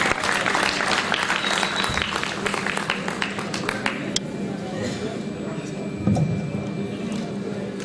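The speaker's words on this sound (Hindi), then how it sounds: "भरपूर तालियों में तशरीफ लाते हैं" Audience applause at a poetry mushaira in Sialkot, a dense sustained clapping that fills the first half and then thins into scattered claps and crowd murmur.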